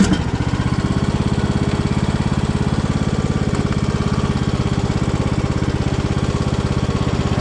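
A new John Deere E100 riding lawn mower engine runs steadily nearby, a loud, even throbbing drone that holds without change and with no talk over it.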